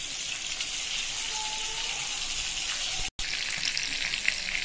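Fish frying in a pan: a steady, close crackling sizzle of hot oil throughout, with a brief cut in the middle.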